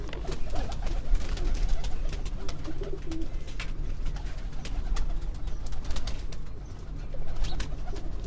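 Pigeons, including an old one, coo repeatedly in soft, rolling calls from a rooftop in Gorali, Gujrat, amid a busy, noisy background of other birds and ambient clatter.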